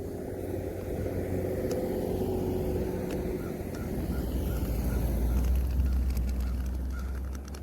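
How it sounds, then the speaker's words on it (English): Vehicles pass on a main street, close and loud, with a steady engine rumble and tire roar that swells as they go by and stays heavy the whole time. "Gonna let these vehicles come up and get past."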